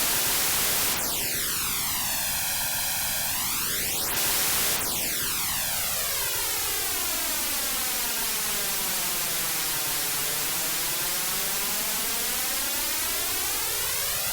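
Flanger effect built from comb filtering, where a signal is mixed with a time-delayed copy of itself, producing a loud, continuous jet-like whoosh that sweeps down and back up twice over a noisy bed, with no voices.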